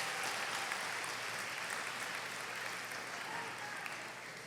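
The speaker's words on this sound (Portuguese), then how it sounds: "pode aplaudir Jesus e tomar o teu assento." A church congregation applauding during a worship service, a steady, diffuse wash of clapping that stays fairly faint and distant and eases off slightly toward the end.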